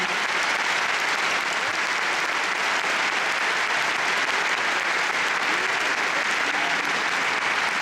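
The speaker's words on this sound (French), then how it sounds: "everybody, we should be, make a big applause for On this hall." Audience applause filling a concert hall at a classical piano concert, a dense, even wash of many hands clapping without pause, loud and sustained throughout.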